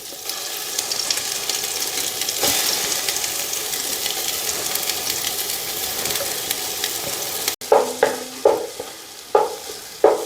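Carrots being stirred and sautéed in ghee for carrot payasam, a steady close sizzle with a spoon scraping the pan, then sharper intermittent stirring knocks toward the end.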